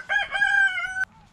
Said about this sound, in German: So, Jacqueline ist das bravste Huhn, das es gibt